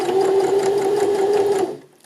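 A sewing machine runs steadily in reverse while putting in a lapped zip, giving a loud, even motor whir with a fast stitching rhythm for under two seconds. It then stops abruptly.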